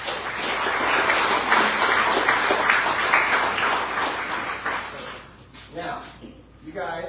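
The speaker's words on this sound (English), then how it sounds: "Round of applause for our three." Audience applause at a live stage performance, a dense wash of clapping that fills the first five seconds, then thins into scattered claps with a voice speaking near the end.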